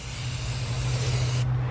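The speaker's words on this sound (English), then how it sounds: "You spray it back and you don't spray a lot." Primer sprayed from an aerosol can onto a 2015 Chrysler 200 S, a steady close hiss lasting under two seconds that cuts off sharply at the end, with no talk over it.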